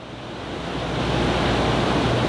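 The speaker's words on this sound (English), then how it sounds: "It's pouring rain!" Heavy pouring rain makes a dense, continuous roar that swells slightly louder over a couple of seconds, with no voices.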